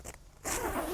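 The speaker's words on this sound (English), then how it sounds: "It has a zipper on the bottom." A zipper runs along the bottom of a GreenStalks frost cover on a windy day, a short rasping zip heard up close after a brief quieter pause, with no voices.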